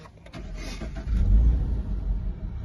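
A Toyota GR86 with a 2.4-litre boxer petrol engine cranks and fires up, the starter followed by a loud low rumble that swells into a brief rev and settles into a steady idle, close by with no talk.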